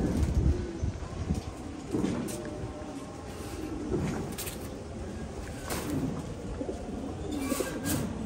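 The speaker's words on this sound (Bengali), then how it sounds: "কবুতরটা অ্যাক্টিভ আছে, ভালোই অ্যাক্টিভ।" A caged pigeon coos softly in low, repeated murmurs, close but faint, over a muffled background hum.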